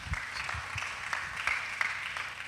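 Church congregation applauding, a sustained patter of many hands clapping with some louder individual claps, moderately near.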